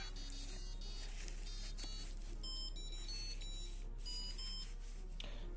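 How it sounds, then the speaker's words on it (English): An Arduino-based plant soil moisture control system sounds its alarm, a repeating electronic beeping tone over a steady low hum, with sharp tonal chirps recurring throughout. "the alarm triggers again and it will sound the alarm"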